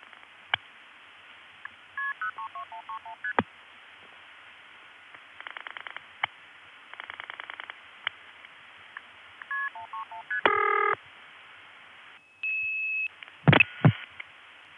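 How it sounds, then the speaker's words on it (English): Telephone exchange MF signalling tone bursts from an Olney, Illinois senderized step-by-step tandem calling Collinsville, about 1981: quick rising and falling multi-tone digit sequences, clicks, bursts of pulsing and a steady supervisory tone, all clear with no talk. "the first set of MFs is Olney MFing to Collinsville, and then we'll hear Olney MFing again"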